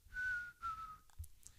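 A person whistling two drawn-out gently falling notes with a brief breathy tail, soft and fairly close, alone with no speech.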